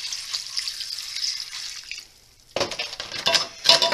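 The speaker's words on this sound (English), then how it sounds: "To that, I am going to add 1 quart of water." Water poured from a quart measure into a dry skillet of spiral rotini pasta, a steady hiss that drops off midway, then splashy, bubbling pouring bursts close by.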